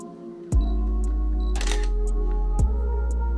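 A Canon 5D Classic DSLR sits close to a steady background hum while its mechanical shutter clicks sharply. A short burst of clattering lands in the middle, and a second crisp click follows a second later.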